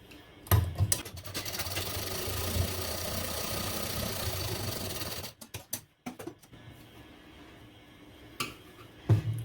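A sewing machine stitches blouse fabric in a steady mechanical whir for about five seconds, bracketed by sharp clicks and knocks of handling before and after, with quiet pauses between.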